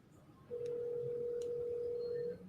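A telephone tone sounds as a call is dialed, a single steady mid-pitched beep lasting nearly two seconds over a quiet, faint background.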